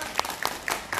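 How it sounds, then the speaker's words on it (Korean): Brief applause welcoming a professor at a book talk concert held during the Seoul International Book Fair, a short burst of scattered claps heard up close. "여러분 큰 박수로 맞이해주세요."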